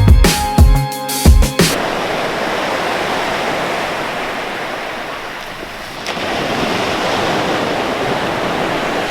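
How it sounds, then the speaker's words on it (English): Waves wash onto the beach at Positano on the Amalfi Coast in a continuous surf roar with some wind buffeting, opening with a few sharp handling knocks close to the microphone. "we made it down to the coastline, to the water, the beach."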